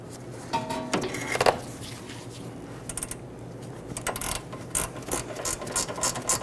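A gear wrench ratchets a control arm bolt into place on a 2011-2023 Dodge Charger front suspension, giving quick clicking bursts over a low steady hum, with clusters of clicks spread through the clip.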